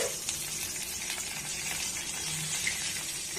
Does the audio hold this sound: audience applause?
no